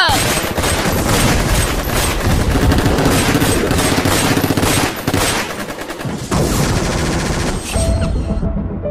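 Dense, continuous automatic gunfire and volleys of shots in a dramatized war scene about a 1984 military assault, loud and sustained for several seconds, with slight dips in intensity and a fading tail at the end.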